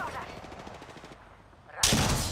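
Gunfire in Apex Legends while the player is under attack: a rapid string of shots at a steady rhythm, then a short lull and a sudden loud broadband blast near the end, with no talk.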